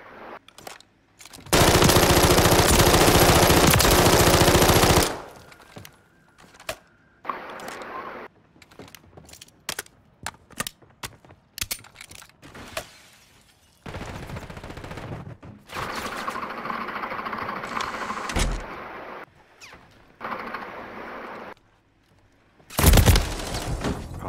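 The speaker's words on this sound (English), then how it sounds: "Dude, they're all shooting at me." Gunfire in the video game Call of Duty: Modern Warfare III, in a free-for-all match: loud sustained automatic bursts alongside many sharp single shots and scattered impacts, with a few long volleys.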